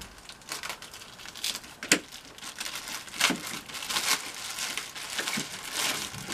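Someone cuts open the plastic packaging around resin armor parts. Close, soft crinkling and rustling goes on throughout, broken by several sharper tearing snaps.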